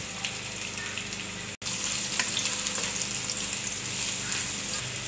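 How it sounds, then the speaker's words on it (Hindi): Sliced onions fry in hot oil toward light brown after okra has been fried in the same pan: a dense, even sizzle close by, with one brief cut of silence partway through. "देखिए हमारी प्याज लाइट ब्राउन होना शुरू हो गई है, बस 2-3 मिनट में फ्राई हो जाएगी ये।"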